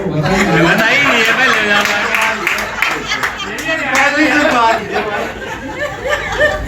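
Audience clapping at a cancer care seminar and honor ceremony in Bhiwani, mixed with chatter and laughter, loud and continuous, with a voice talking over the crowd.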